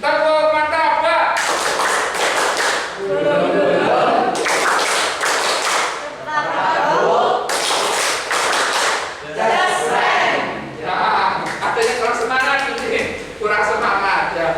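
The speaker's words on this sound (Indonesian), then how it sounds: "Tepuk martabak." Classroom of students doing the "tepuk martabak" rhythmic clapping routine together, bursts of sharp group claps and slaps in a patterned sequence separated by brief pauses, with chanting voices between.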